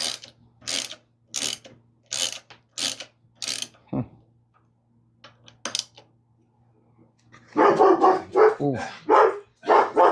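Dogs bark indoors in repeated sharp, loud bursts, first evenly spaced, then after a quiet pause a denser flurry of barking and growling, with a brief exclamation from a person.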